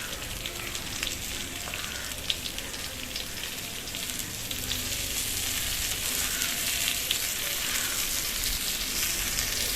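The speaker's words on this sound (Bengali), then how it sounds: "এটাকে ভালো করে নেড়ে নিচ্ছি যাতে চারি জায়গায় যাতে সিদ্ধটা হয়ে যায়" Pointed gourd and shrimp frying in a pan while being stirred: a steady, loud sizzle with crackling hiss that runs through the whole stretch, with occasional soft scraping of the stirring.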